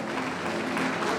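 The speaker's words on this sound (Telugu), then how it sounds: "మీ ఇష్టాన్ని చప్పట్ల ద్వారా తెలియజేస్తే కోరుతున్నాను" Wedding guests applaud together in a dense, steady burst of clapping that fills the whole moment at an even, moderately loud level, with no voices standing out.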